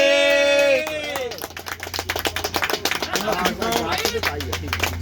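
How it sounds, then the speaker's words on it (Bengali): An outdoor crowd at a fishing competition prize-giving breaks into rapid clapping that follows a brief whistle-like tone, dense irregular claps for several seconds, with voices mixed in. "সবাই হাততালি"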